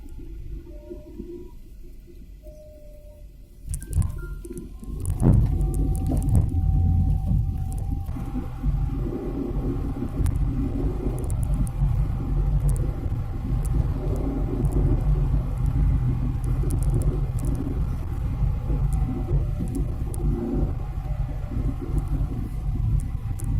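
A heavy tanker truck loaded with crude palm oil rumbles past on an ordinary road, its engine drone rising suddenly and then holding as a loud, steady roar.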